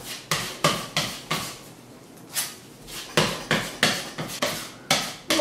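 Uniflott filler pressed into a drywall seam with a spatula, giving a run of sharp, regular scraping strokes with short pauses. The strokes are close and moderately loud, and no one talks.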